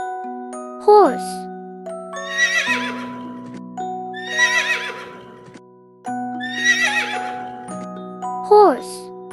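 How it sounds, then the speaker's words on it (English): A horse whinnies in a loud, descending neigh, followed by clip-clop hoof sounds and jingling bells, and the pattern repeats. Between the sounds, a voice speaks over soft music. "horse"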